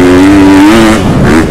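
A 2023 Husqvarna FC 250 four-stroke dirt bike engine revs hard close up, a loud sustained high-pitched drone that holds steady then wavers and climbs again, with no voices.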